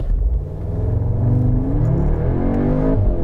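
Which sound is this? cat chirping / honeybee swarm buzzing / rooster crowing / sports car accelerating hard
sports car accelerating hard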